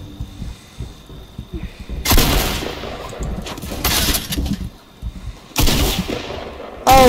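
Star Wars video game gunfire as Imperial troops attack a base: loud blaster bursts and booming impacts break in at intervals over a rumbling battle background, close and heavy.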